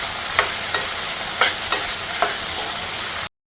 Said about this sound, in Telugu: ఇంక ఇందులో కొంచెం చింతపండు, సరిపడా ఉప్పు వేసుకొని బాగా ఫ్రై చేసుకోవాలి